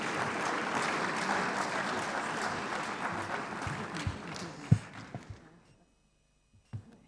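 Audience applause at a conference session of an Africa investment summit, steady and full for about five seconds, then thinning into a few scattered claps and sharp knocks before falling silent.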